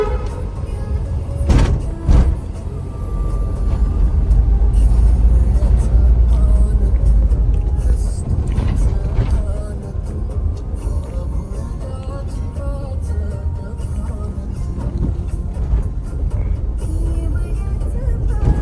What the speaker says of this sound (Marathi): वरतून रेल्वेचं ब्रिज आणि खालतून गाड्या जातात